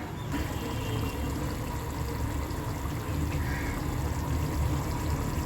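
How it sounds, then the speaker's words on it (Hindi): Marinated chicken liver pours into a cooking pot as a steady, wet, gushing slide that runs unbroken for several seconds, close up and with no talking. "कलेजी को अब हम जो है इसमें डालते हैं।"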